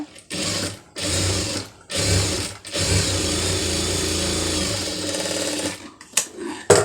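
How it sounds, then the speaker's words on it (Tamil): A sewing machine stitches blouse lining fabric with a quarter-inch seam. Its loud, close motor whirs in several runs of stitching separated by short pauses, ending in quick stop-start bursts. "ஒரு கால் இன்ச்சுக்கு கரெக்டாக அந்த அளவுக்கு வந்து தையல் ஓட்டிடுங்க"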